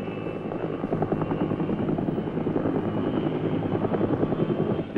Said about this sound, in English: the Army launches attack and scout helicopters